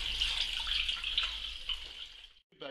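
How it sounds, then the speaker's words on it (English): Tap water runs steadily into a pot being filled for poaching rabbit, a close, continuous splashing rush that cuts off near the end before a brief knock. "I'm going to fill it up with water."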